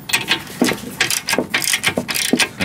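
A socket ratchet clicks in quick repeated strokes while loosening the trailing arm bolts on a DeLorean, close and crisp with a steady back-and-forth rhythm.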